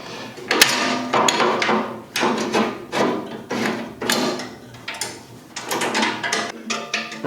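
Two screws fastened into a Laguna 12|16 lathe wheel kit on a workbench, heard as a close, busy run of sharp clacks and rattling metallic taps. The taps come in short irregular bursts separated by brief pauses.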